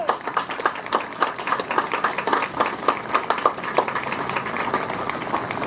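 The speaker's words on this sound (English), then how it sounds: "Please, a round of applause." An audience at a Memorial Day speech claps in a dense, irregular burst of applause that holds steady throughout, moderately loud and without talk.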